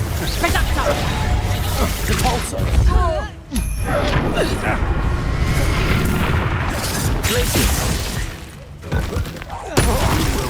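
In the video game Hogwarts Legacy, the Confringo blasting spell explodes as a loud, continuous rumble of booms and bursts that runs through the whole stretch, with a voice calling out over the din.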